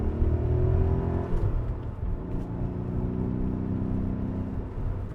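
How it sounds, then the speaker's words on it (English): A BMW E39 M5's V8 revs hard on a straightaway, its deep, loud, steady engine drone rising and holding close by with no talk over it. "You hear that V8."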